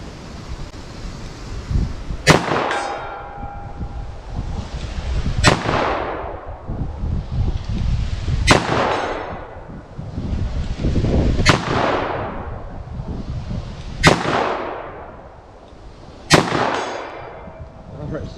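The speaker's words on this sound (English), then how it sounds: "So let's see what I can do with our 357 Magnum 158 grain" Six loud .357 Magnum revolver shots with 158 grain soft point rounds crack out at a steady, unhurried pace outdoors, each followed by a ringing echo and a faint clang of steel.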